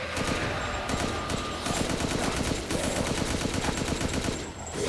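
Rapid gunfire from a firearm in Resident Evil Village, a fast loud stream of shots in long bursts, close and dominant, with a brief pause partway through.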